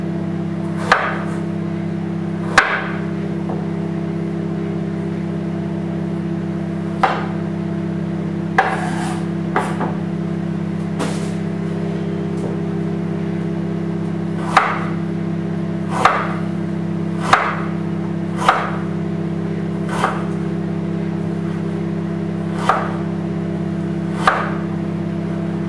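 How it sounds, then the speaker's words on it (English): A knife chopping ginger on a plate, with sharp, irregularly spaced cuts knocking against the hard surface over a steady background hum. "So I'm going to cut this ginger."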